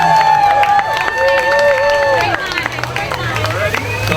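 Loud crowd noise for an 8U youth cheer team at a Monroe Area High School fall sports introduction, with scattered clapping and cheering under sustained hubbub and whistling tones.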